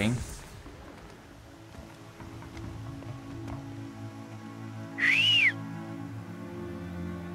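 A single bright whistle rises and falls briefly in Horizon Zero Dawn, sounding clearly for about half a second amid a low game ambience and some earlier muffled talk.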